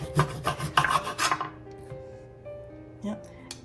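A sharp kitchen knife rasps and crunches through hard fruit in a few quick, loud strokes close by, then the cutting stops and only faint clatter remains.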